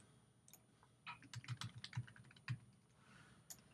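Quiet computer keyboard typing: a burst of light, quick keystrokes in an irregular rhythm, close and soft, with no talking.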